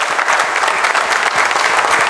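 Theatre audience applauds warmly for the amateur company In Buona Compagnia during the third act of a stage comedy: a dense, steady wash of many hands clapping, loud and sustained throughout, with no voices on top.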